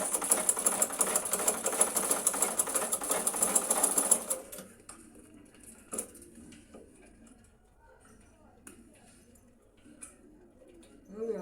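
Sewing machine stitching a princess dart on a lace padded blouse, a rapid burst for about four seconds, then quiet handling sounds and faint clicks.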